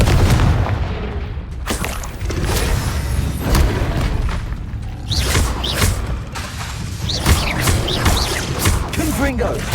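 Repeated Confringo fire-spell blasts in the Hogwarts Legacy video game, a steady run of booming impacts and whooshes over dense game effects, with character voices calling out spells throughout.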